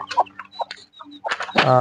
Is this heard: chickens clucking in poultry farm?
yes